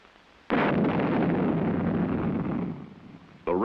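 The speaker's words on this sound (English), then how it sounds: "When the rocket reaches a rotational velocity of 3 revolutions per second, an igniter sets off the propellant." A Little John artillery rocket's propellant ignites with a sudden loud roaring blast that holds steady for about two seconds, then fades into a lower rumble before another burst begins at the end.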